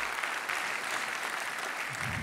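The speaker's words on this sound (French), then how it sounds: "Vous pouvez l'applaudir." Brief applause from a conference audience for a speaker introduced to talk about blockchain, an even wash of clapping at moderate distance, fairly faint and without clear individual claps.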